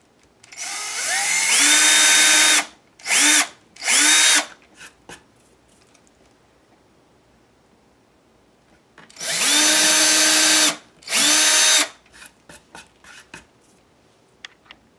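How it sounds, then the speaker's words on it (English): A power drill whines up in several bursts while drilling a small starter hole, two longer runs and shorter pulses, with quiet gaps and light handling noises between, close by. "Just drill a little starter hole."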